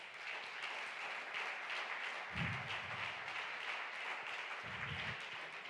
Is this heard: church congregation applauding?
yes